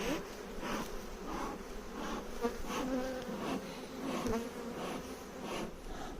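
Honey bees buzz during a beehive inspection, a continuous, close, droning hum of many insects that never lets up, with no talk.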